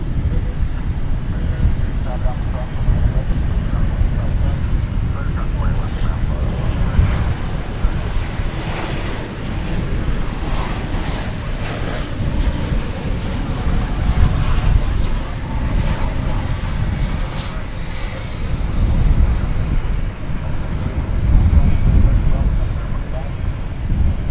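An American Airlines jet, Flight 2368 from San Antonio, passes at DFW Airport at night with a sustained engine roar and low rumble that swells and fades, some wind noise and a voice talking in places.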